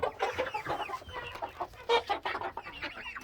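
Chickens and roosters clucking inside a backyard coop, a steady, fairly quiet mix of overlapping clucks and short calls from several birds.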